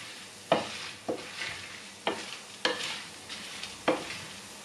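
Spices dry-roasting over low heat in a pan for Chettinad chicken curry, with faint sizzling and about six crisp, evenly spaced scraping stirs, close and quiet.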